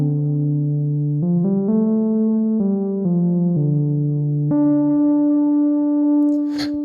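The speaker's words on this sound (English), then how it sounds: "Some nice ambient melodic soundscape" Soft sustained synth tones from a Novation Launchkey Mini Mk3 glide through a slow sequence of held notes, smooth and airy with rich overtones, ending on a brief bright noise burst.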